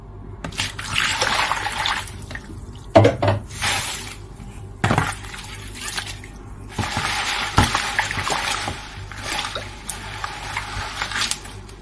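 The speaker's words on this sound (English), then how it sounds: "So I'm going to need to rinse them again." Green lentils are swished and rinsed in a basin of water, with irregular sloshing, trickling and clattering splashes coming in bursts close by throughout.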